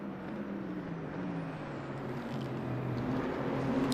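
A front-engine, rear-wheel-drive GT3 race car in a racing video game holds a steady, fairly distant engine drone, with pitch rising and falling slightly as it runs.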